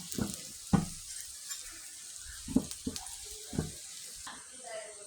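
Pointed gourd (potol) slices fry quietly in a pan, soft sizzling broken by a few scrapes and knocks as a spatula stirs and lifts them out.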